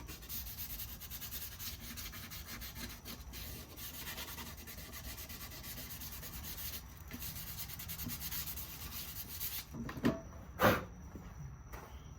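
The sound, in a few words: light scuffing of Permatrim with 220 sandpaper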